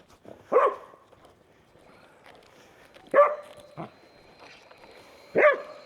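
A small dog barks three times in short, separated bursts, with quiet pauses between them.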